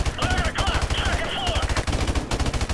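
Rapid automatic gunfire from the video game Call of Duty: Modern Warfare Remastered, rattling in fast, steady bursts that run nearly the whole moment, loud and close, with a faint voice beneath.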